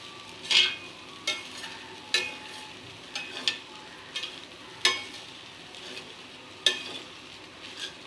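An omelette of beaten egg frying in a home kitchen pan, with a steady low sizzle broken by sharp scraping and tapping clicks of a spatula at irregular intervals, fairly close and moderately quiet.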